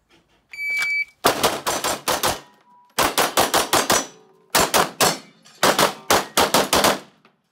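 Gunfire on a shooting range, firing in rapid bursts of about five or six sharp, loud, close cracks each, four groups separated by short pauses, preceded by a brief electronic beep.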